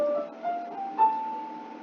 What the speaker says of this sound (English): A minor scale sounds like this.